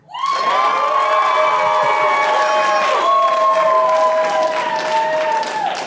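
A comedy club audience breaks into loud applause with cheering, whoops and shouts, a dense, sustained roar of clapping and voices lasting several seconds.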